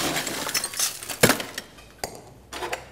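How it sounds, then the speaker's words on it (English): A cocktail sour glass is being chilled, with ice clinking and rattling against the glass in a few close, bright bursts and short pauses between them. "we chill our sour glass"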